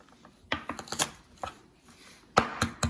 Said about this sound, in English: Mince it.